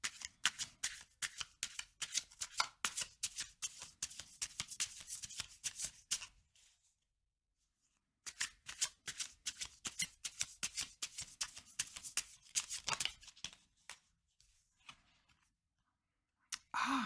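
A deck of tarot cards is shuffled close by, rapid crisp riffling bursts repeating in two long runs separated by a short pause, quiet and alone.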